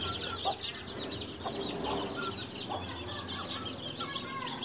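Chickens on a rural farm cluck repeatedly at moderate distance over a steady farmyard background, with several birds calling in loose, irregular bursts.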